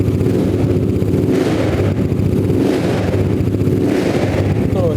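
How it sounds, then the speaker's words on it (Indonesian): A custom cafe racer built from a 250cc X-Max automatic scooter rumbling up close with a few light, brief revs that swell and fall back, a steady throb underneath. "Coba kita geber-geber tipis-tipis nih."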